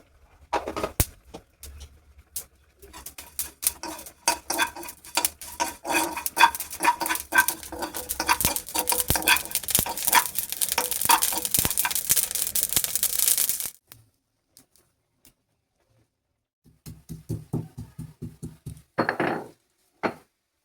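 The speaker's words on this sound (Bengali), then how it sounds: "শুকনো খোলায় কটা জিরে আর তেজপাতা একটু ভেজে নিচ্ছি।" Cumin seeds and bay leaves dry-roast in a hot, oil-free pan, giving a close, steady scraping and rustling that builds for about thirteen seconds, then stops, followed by a few shorter bursts of stirring.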